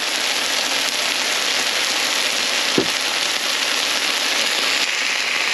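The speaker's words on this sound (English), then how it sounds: "this noodle sear a little bit before we flip it" Steady sizzling of potato lo mein noodles with tofu and vegetables searing in a hot pan, a constant even hiss throughout with one small tap midway.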